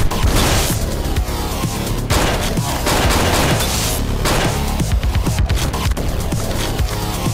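Rapid gunfire and booming shots in the video game Hotline Miami 2, dense and continuous over loud game music, with heavy impacts throughout.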